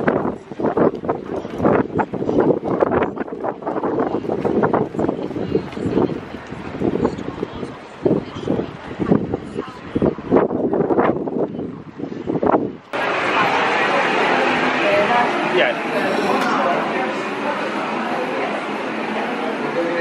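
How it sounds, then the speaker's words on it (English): Gusty wind in Olden, Norway buffets the microphone in a loud rushing roar, with talking mixed in during the first half before the wind takes over. "So it's a very windy day here in Olden."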